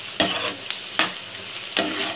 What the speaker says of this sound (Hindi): जिसमें हमने आलू फ्राई किया था उसी में ये जो प्याज है ये थोड़ी सी बस हमें सॉफ्ट करनी है।